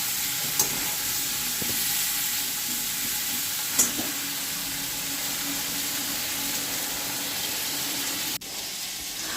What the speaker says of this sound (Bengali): আন্দাজ মতো নুন হলুদ ভালো করে দিয়ে ভালো করে খুব ভালো করে সবজিটা ভাজবো